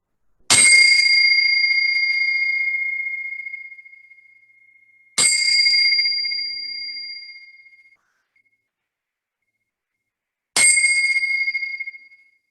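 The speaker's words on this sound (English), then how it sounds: "invite the attention to rest on the sound sensation of the bell" Meditation bell struck three times at slow, even intervals, each strike a bright, clear ring that lingers and fades gradually into silence before the next, alone with no voices.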